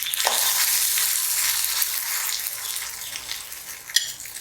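Sweet appam frying in hot coconut oil gives a loud, steady close-up sizzle with faint scraping as the cake is flipped, and one brief clink near the end.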